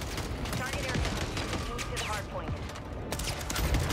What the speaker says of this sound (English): A hit marker to the head with a sniper rifle.